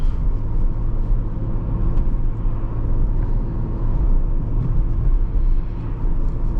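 Steady low engine rumble from a 1999 Toyota Camry LE V6 under light throttle, a smooth continuous drone heard from inside the car with no talking.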